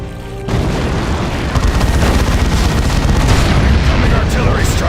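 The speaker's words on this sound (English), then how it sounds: "Artillery strike! Clear the target area!" Artillery strike explosions in the video game Dawn of War II: Chaos Rising, a sustained roar of loud booming blasts that rises at once after a brief quieter start and rumbles steadily to the end, with voices faintly heard in the mix.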